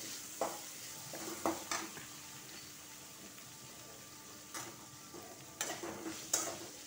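Onions and curry leaves frying in oil in a pan, a quiet continuous sizzle broken by occasional spoon stirs and scrapes against the metal, sparse and close.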